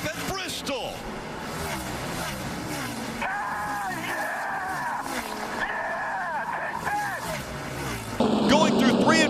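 NASCAR Cup race cars roar down the backstretch in a continuous loud engine drone, with a commentator talking throughout and a louder surge near the end.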